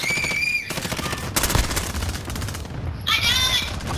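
Dense automatic gunfire from Call of Duty Modern Warfare rattles in close, loud bursts, with sharp shots breaking through game effects and tones. Players shout over the firing.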